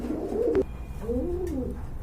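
Soft pigeon coos, two short low rolling calls a moment apart, close by against a quiet background.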